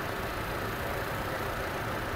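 A 2017 Toyota Fortuner with automatic transmission idles at a dealership, a smooth, steady, quiet engine hum with broadband hiss and no change in pitch or speed throughout.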